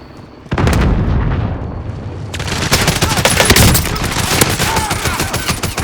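Call of Duty match with the Oden rifle firing, dense rapid bursts of gunfire and explosions close and loud, continuous volleys with in-game callouts under the shooting.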